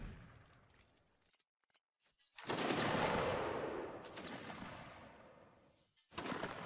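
Musket volleys crash out during a line battle in Mount & Blade: Napoleonic Wars, with one long, loud rolling burst of massed fire that slowly fades, then another volley starting, after quieter distant shots.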